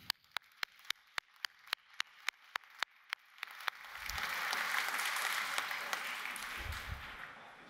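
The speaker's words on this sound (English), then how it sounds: "give them a very, very big hand and just give them a clap" An audience at a RIO press conference during the IAA Commercial Vehicles 2018 show breaks into sustained applause after a run of steady, evenly spaced clicking ticks, the clapping swelling to a broad, full wash.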